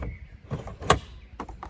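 A campervan's sliding door being pulled shut: a faint rolling slide followed by one sharp thud near the middle and a couple of softer knocks afterward, close by and brief.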